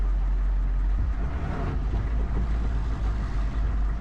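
A Hummer H1 whose transfer case has slipped out of gear gives off a heavy, low drivetrain rumble with uneven knocking pulses, close and steady, with no talking over it.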